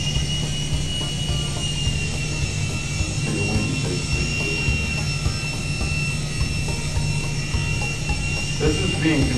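Small infrared remote-controlled toy helicopter flying indoors in a school classroom, a steady high electric whine with a constant low hum running unbroken throughout, moderately loud and close.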